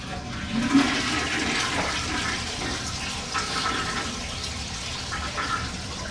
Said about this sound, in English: here you got the toilet, the flush here